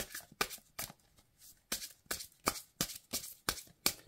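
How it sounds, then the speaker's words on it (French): A deck of oracle cards being shuffled by hand, about a dozen crisp riffling bursts in quick irregular succession, close and fairly quiet with no talk. "je vais battre les cartes"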